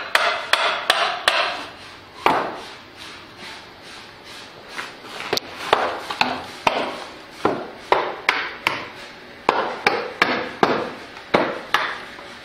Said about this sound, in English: I'm gonna use a rubber mallet to sort of loosen up the bolts a bit